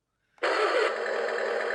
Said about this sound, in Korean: 탱크 지금 엔진음을 가상으로 지금 만들어 놨죠